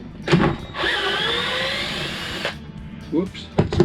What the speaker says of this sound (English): by using a drill tap, you can see this is a drill with a tap on it